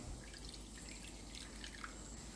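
Water poured into a bowl of atta and maida flour with salt, baking soda and oil for chapati-style dough, a faint, steady, dripping trickle without speech.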